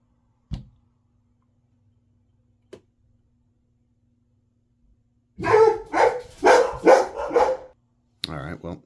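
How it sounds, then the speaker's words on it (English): Dogs bark nearby in a run of four or five loud, closely spaced bursts after near silence, with two faint clicks earlier and a short final yelp. "dogs barked and they might do it again"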